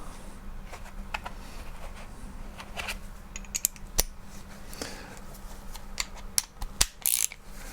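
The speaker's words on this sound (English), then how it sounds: "And you don't need a torque wrench to undo it, but I'm using one because it's going to make it easier." A 10mm nut on a 2-stroke engine being undone with a torque wrench on an extension: a series of sharp, close ratcheting clicks and metallic ticks, sparse at first and bunching together near the end, over a quiet hum.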